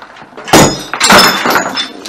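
Objects get smashed in a smash room with two loud, sharp breaking impacts, each a crack and crunch of shattering material with some glassy debris, close by and separated by a short pause.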